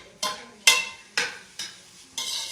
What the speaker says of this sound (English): we got 4 tablespoons of butter and a half of an onion, and we're just gonna saute this